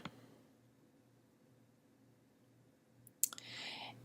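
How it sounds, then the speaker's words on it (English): Computer mouse clicks while working in a shared online document: a sharp pair of clicks near the end of a quiet stretch of low room hum, followed by a brief hiss. "I'm going to go ahead and click right here"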